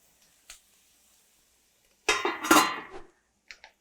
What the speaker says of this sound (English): it's time to add the lid